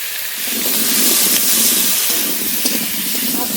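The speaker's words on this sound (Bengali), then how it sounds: "আলু আগে ভেজে নেব" Cut potatoes fry in hot oil for a fish and potato curry, a continuous loud, bright sizzle that swells slightly and holds steady throughout with no voices.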